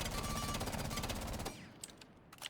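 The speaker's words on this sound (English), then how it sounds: "say you're firing burst of 10 bullets, you're starting out in the game." A rapid automatic rifle burst rattles in Rainbow Six Siege, dense evenly spaced shots for about a second and a half, then the firing stops and faint scattered clicks and echoes trail off.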